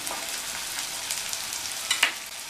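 Chopped onion, spring onion and capsicum sauté in a pan for gobi manchurian, a close, steady crackling fry with a couple of sharper sputters toward the end.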